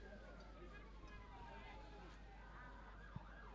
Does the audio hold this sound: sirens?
yes